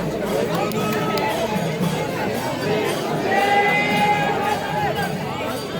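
Dense crowd of pilgrims near the palanquin at the Akkalkot yatra, a continuous hubbub of many voices close around, with a person talking over it.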